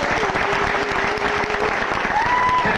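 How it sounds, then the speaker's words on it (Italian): Sustained applause from an audience at an Italian dinner-table event with voice actors, dense steady clapping throughout, with faint tonal hum lines in the background. "Allora io farei un applauso a Emanuela Pacotto."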